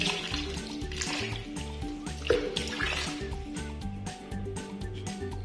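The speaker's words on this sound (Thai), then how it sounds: "เทน้ำร้อนลวกรูลงไปเลย" Hot water poured down a clogged bathroom sink drain, splashing and trickling steadily, with low music playing underneath throughout.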